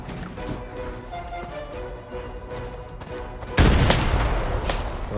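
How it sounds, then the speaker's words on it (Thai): A sudden loud grenade blast erupts partway through, following background noise and rumble in the video game Arena Breakout, then a sustained roar of debris afterward. "มาระเบิดเช็คเพื่อนครับผม"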